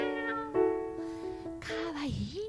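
A voice or instrument imitates a cat's meow during a live concert performance of a cat-themed song, with sustained tones and a final swooping, meow-like glide, moderately loud.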